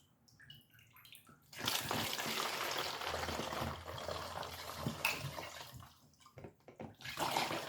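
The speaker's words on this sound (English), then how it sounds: "So I have a bottle here that I save. So I'm gonna put this. I'm gonna fill the bottle up." Liquid pours into a saved bottle, a steady gurgling rush that begins after a quiet opening, fades and returns in uneven surges near the end.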